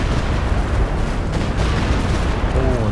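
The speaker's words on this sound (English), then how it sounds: "Stuka targeting this machine gun maybe." A Stuka dive-bomber air strike in Company of Heroes 2 lands as a dense, sustained rumble of explosions, loud and close, with no clear breaks between blasts.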